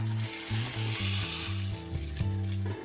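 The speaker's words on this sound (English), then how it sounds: "now it's time to add 1 cup of the rice to our boiling water here" Brown rice poured into boiling water in a pan sets off a steady, fairly quiet sizzling hiss over a continuous low hum from the stove, with no voices.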